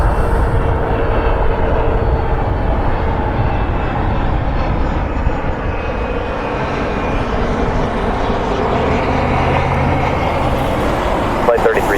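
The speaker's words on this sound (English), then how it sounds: "Got a Phenom inbound." An Embraer Phenom jet arrives inbound at a rainy Cleveland airport, its engine noise forming a continuous broad roar that stays steady and fairly loud throughout.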